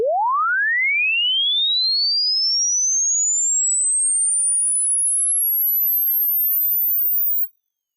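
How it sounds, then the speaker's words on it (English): A pure sine-wave chirp sweeps steadily upward from 20 Hz to 20,000 Hz over about seven and a half seconds, loud and constant, then cuts off abruptly into silence. "I want to play this chirp one last time for you."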